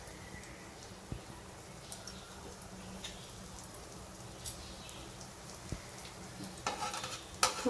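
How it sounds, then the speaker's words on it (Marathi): French toast frying in ghee, a soft crackling sizzle with sparse pops and occasional spatula taps, close but fairly quiet, getting busier near the end. "या पद्धतीने ह्याला आपण तुपामध्ये फ्राय करूया."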